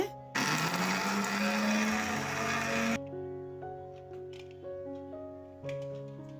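A mixer grinder grinds idli podi ingredients (dried lentils, chillies and salt) with a loud roaring whir for about three seconds, then cuts off, leaving the motor winding down with faint rattles.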